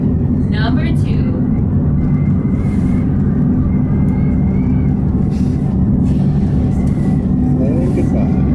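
Loud, steady low rumble and whine inside a Sandia Peak aerial tramway car as the other tram car passes midway, with faint voices underneath.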